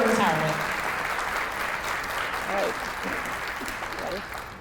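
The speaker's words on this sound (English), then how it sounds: "Let's give them a big round of applause." Applause from parents and guests at a kindergarten graduation ceremony, a steady wash of clapping that fills the room, with scattered voices and cheers mixed in throughout.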